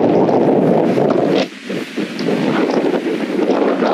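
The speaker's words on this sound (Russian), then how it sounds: "Ветер." Steady wind buffeting the microphone outdoors at a star fortress in Apollonia, Albania, a loud low rumble that drops briefly in the middle and then returns.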